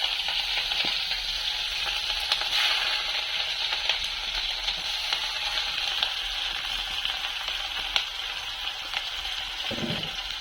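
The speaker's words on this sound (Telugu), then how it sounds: "ఆయిల్ వేసుకొని ఉల్లిపాయలు, పచ్చిమిరపకాయలు సన్నగా కట్ చేసుకొని వేసుకోవాలి." Chopped onions and green chillies frying in hot oil for a mushroom curry, a steady, close sizzle with soft crackles throughout and no talking.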